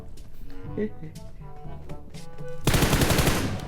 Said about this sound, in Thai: โอ้นี่ยิงเยอะจัดเลยวะ